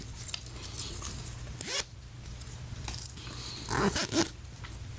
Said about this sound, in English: And you got this nice zipper